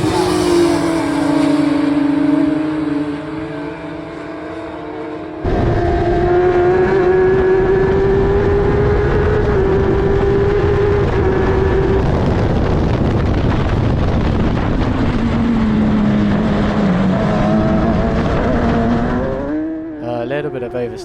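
An F1000 open-wheel race car runs flat out on a track, its loud high-revving engine droning and climbing through the gears with a sharp shift break, wind buffeting the onboard microphone.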